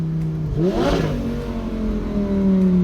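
A Lamborghini with an E-gear transmission revs up sharply and then settles back, its engine note climbing and falling, loud and close, with a steady engine drone throughout. Exhaust pops are not clearly distinct.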